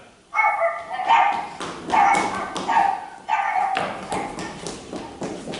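Dogs bark close and loud in a run of sharp, repeated bursts, with short gaps between them and some softer yips near the end.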